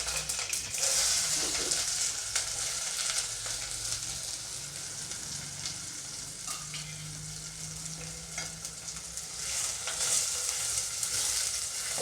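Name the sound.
mustard seeds, dried chillies, onion, curry leaves frying in oil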